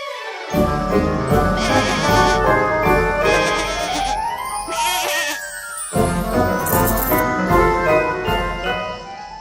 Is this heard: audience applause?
no